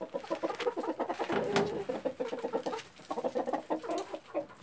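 Silkie chickens clucking busily up close, with a silkie rooster's short calls mixed into a steady run of clucks and murmurs.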